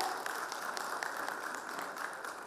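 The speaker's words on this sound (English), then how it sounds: "Big round of applause for our first volunteer" Round of applause from an audience at an evening travel meetup, a dense, even wash of clapping heard from a distance, soft and steady throughout.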